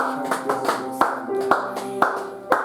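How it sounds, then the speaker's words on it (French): A church congregation claps in praise, about a dozen sharp, rhythmic hand claps landing roughly every half second, close and clear over a sustained tonal backing of music or singing. "Applaudis pour Jésus."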